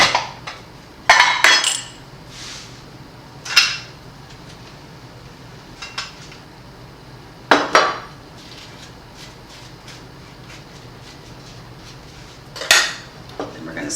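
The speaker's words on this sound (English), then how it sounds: "I'm going to actually put a little teeny butter on it." A knife scraping and tapping on toast and a plate, sharp intermittent clinks and scrapes in short bursts spaced several seconds apart, close by over a quiet kitchen background with no talk.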